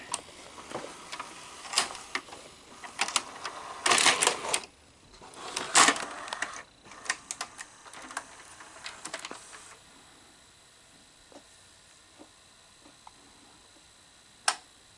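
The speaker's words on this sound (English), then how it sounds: "Let's just get a different tape in." A VHS tape goes into a JVC HR-S6700U VCR with a cluster of sharp plastic clunks and clicks, then a faint mechanical whir and one final isolated click near the end.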